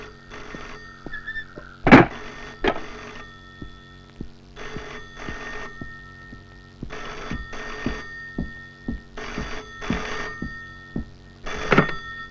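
A telephone bell rings in repeated bursts of brisk trilling, loud and close, with dull thumps between the rings and no talking.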